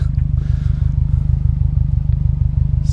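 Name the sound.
sports car exhaust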